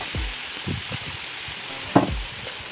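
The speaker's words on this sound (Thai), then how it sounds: "เอาวันบะแปบที่เราหั่นซอยตะกี้นะครับ ลงมาผัดเลยครับ" Sliced bean pods stir-fried in a hot pan for a northern Thai salad, giving a steady sizzle and frying hiss with a few louder scraping stirs, close and clear with no talk.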